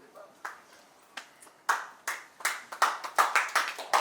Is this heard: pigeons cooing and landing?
no